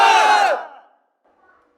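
A crowd in a Hindi stage play shouts a religious slogan in unison, one loud massed burst of under a second that quickly fades into silence, with a faint click at the end.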